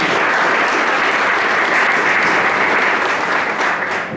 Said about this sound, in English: Applause to the speakers.